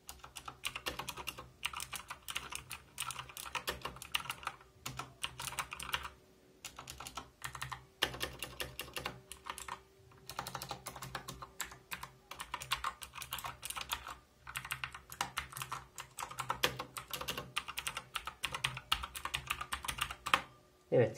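Someone types on a GAMEPOWER SABER RGB mechanical keyboard in bursts of rapid, close clacking keystrokes, with short pauses between runs.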